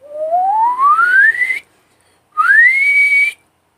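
A person whistles with the mouth, one long tone gliding smoothly upward in pitch, then after a short pause a second whistle that rises quickly and holds high; clear, close and alone.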